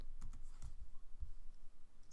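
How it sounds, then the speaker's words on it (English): Several light key clicks tapped on a computer keyboard, entering a zoom shortcut with a modifier key and the plus key; soft, close, scattered presses in a quiet room with no speech. "I do that by typing Command and the plus key, or Control and the plus key if you're on a PC"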